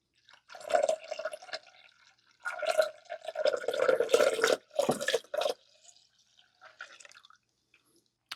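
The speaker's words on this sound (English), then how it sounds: "We'll now slowly pour the alcohol mixture into the warm milk." An alcohol mixture is poured slowly into warm milk, coming as several short, close trickling and splashing bursts separated by quiet pauses.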